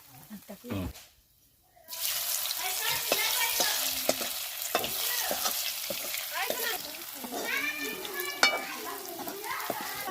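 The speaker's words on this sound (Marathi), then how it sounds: "तेल गरम झाल्यावर मुटके टाकलेले आहेत" Mutke dumplings frying in hot sweet oil crackle and sizzle in a dense, bubbling stream after a short quiet moment at the start, with a voice talking over the frying.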